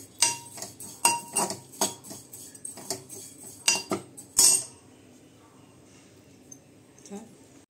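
Oats being dry-roasted in a pan while being making home made Horlicks, with a run of quick metallic scrapes and clinks of a spoon against the pan for about four seconds before it falls quiet.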